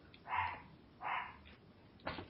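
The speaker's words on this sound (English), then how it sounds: "All I keep hearing is a fucking dog in the background." A dog barks somewhere in the background in three short, moderately loud bursts spaced about a second apart, with quiet room tone between them.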